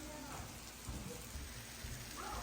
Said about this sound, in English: Oh wow, what a gentle spring rain.